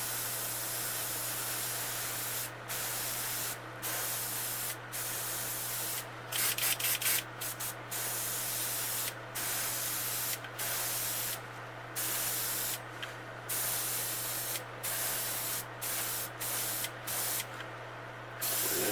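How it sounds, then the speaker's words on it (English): Repeated short bursts of an aerosol spray can hissing close by as paint is lightly sprayed onto a fishing lure, with brief pauses between sprays over a faint steady hum. "Lightly spray, and shoot on an angle. You don't have to shoot much."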